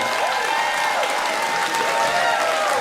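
A stand-up comedy crowd applauds steadily, a dense wash of many hands clapping at close range that continues without a break.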